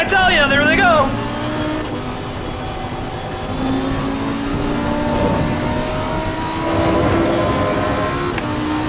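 Race cars at Monza roar past in a dense, continuous engine drone with rising and falling revs, loud and close, while an excited voice talks over it and crowd noise fills the background.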